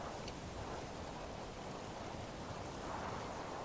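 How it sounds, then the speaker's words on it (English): Steady rain falls in the video game Three Fourths Home, a soft, even wash of broadband hiss that holds at a constant level throughout with no voices. "As you can see, it's raining"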